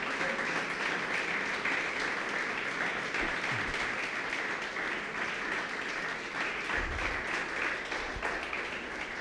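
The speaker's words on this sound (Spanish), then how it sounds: "Denle un aplauso grande al Señor Jesús" A church congregation applauds and cheers for Jesus during a sermon on spiritual warfare, a dense, steady roar of many hands clapping that fills the whole stretch without a pause.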